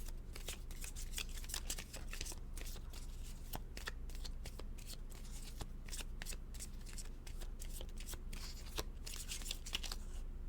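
Tarot cards are shuffled close by, a soft rapid riffling and flicking that goes on throughout at low volume, with no voice over it.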